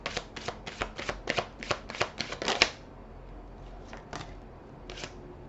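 Tarot cards being riffled and shuffled by hand, a quick run of crisp, close papery bursts that then slows to a few scattered flicks.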